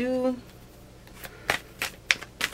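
Tarot card shuffling in quick bursts, several crisp riffling flutters with short pauses between, preceded by a brief voice at the start.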